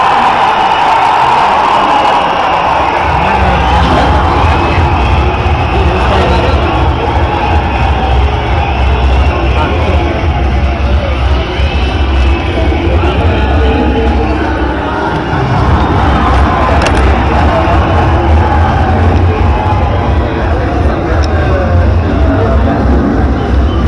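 Massive crowd cheering and clapping as Vijay, leader of the Tamilaga Vettri Kazhagam, takes the stage at a rally: a dense, loud, continuous roar that fills the whole stretch without letting up.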